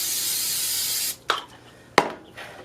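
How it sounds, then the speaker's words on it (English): Cooking spray hisses onto a baking pan in one steady burst of about a second, followed by a couple of short clanks and taps from the pan nearby. "Spray our pan a little bit."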